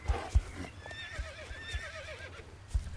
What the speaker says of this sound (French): Ah, putain de poney.